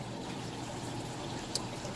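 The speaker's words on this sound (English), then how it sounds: "so now I just kind of rinse it off in some water" Water splashes and trickles continuously as an Anubias aquarium plant's roots are rinsed, a steady close-up wash of liquid with one brief bright splash.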